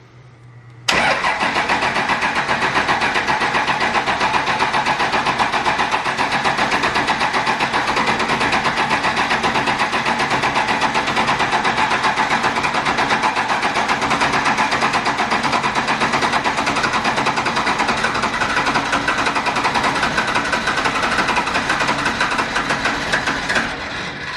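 A small engine in a new chassis starts at its first run and settles into a loud, steady, rough idle in neutral, droning close by without pause for over twenty seconds.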